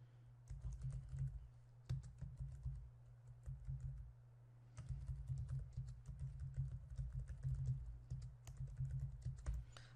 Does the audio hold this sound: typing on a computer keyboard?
yes